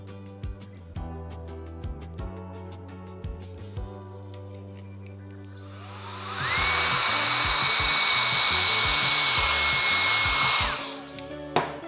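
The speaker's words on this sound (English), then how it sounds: "Using my blow dryer to blow dry down all this dimension in the mids for a nice blend." A handheld blow dryer drying and blending hair at a salon station roars on steadily and loudly for about five seconds after quieter handling noises, then cuts off.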